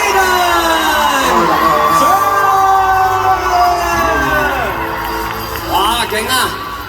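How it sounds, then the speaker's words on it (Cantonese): A large fan crowd screams and cheers at a live idol fan-meeting stage event, a loud sustained roar of shrill voices that swells and rolls on throughout, with an amplified host's voice heard over it. "熱烈嘅掌聲同歡呼聲歡迎"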